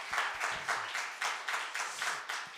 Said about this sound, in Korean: 우리 다 같이 격려하는 마음으로 박수 한번 하도록